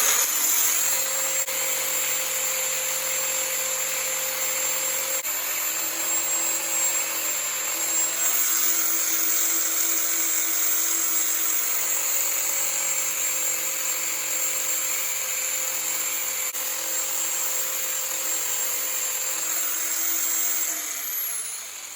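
A handheld power carving tool whines steadily and close for over twenty seconds, a high rotary drone with small shifts in pitch as it bites into the work.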